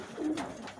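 A pigeon in a pigeon loft gives a short, soft, close coo, a single low rolling call in a quiet room.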